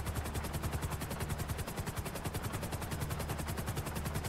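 Helicopter in a video game, a loud steady rapid rotor chop with heavy low thumping pulses, close and continuous throughout.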